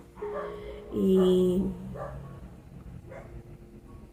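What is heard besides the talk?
neighbours' dogs barking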